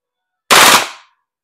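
A WE M4RIS V3 airsoft gas blowback rifle fires one short, loud, close-up full-auto burst of rapid shots lasting about half a second, then stops.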